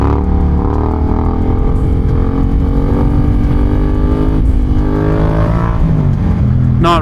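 Yamaha MT-07 stunt bike engine droning loud and close, revving with rising and falling pitch across the whole stretch.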